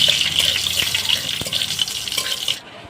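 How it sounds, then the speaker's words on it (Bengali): Cumin seeds and dried red chilies frying in hot oil, a loud crackling sizzle with stirring scrapes, steady throughout before cutting off abruptly near the end. "জিরে শুকনো লঙ্কা দিয়ে দিচ্ছি এখন আমি ভেজে নিচ্ছি"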